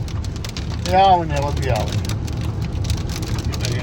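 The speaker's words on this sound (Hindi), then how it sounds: "बहुत तेज बारिश हो रही है" Heavy rain pours down steadily outdoors with a constant low rumble and hiss, while a person speaks briefly near the start.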